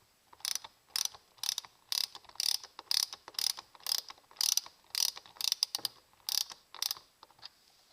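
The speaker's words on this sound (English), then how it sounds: "And so a few turns with the socket, and we'll have our axle assembly together." Ratcheting socket wrench tightens a lock nut on the wheel axle of a generator, with a close run of regular crisp clicking bursts about every half second, each a quick cluster of ratchet ticks, with no voices.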